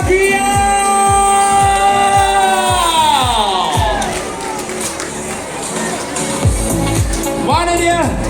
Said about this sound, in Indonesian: Kita nak anda semua jerit kuat-kuat untuk band yang kita bawakan khas untuk anda semua.